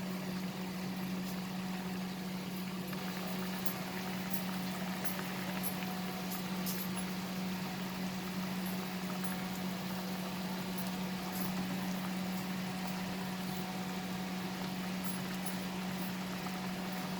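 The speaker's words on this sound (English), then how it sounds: "So now we will remove this and we will see that it's boiling." A constant bubbling roil of water boiling in a pot for cooking stuffed pointed gourds, with a steady low hum underneath and occasional faint pops, nearby and unbroken.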